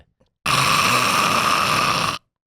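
A voice imitates loud snoring in one long, rasping, steady drone lasting under two seconds, close and alone amid quiet.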